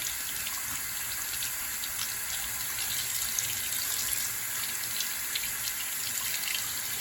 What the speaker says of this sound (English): so that may be hot water finally arriving almost a minute later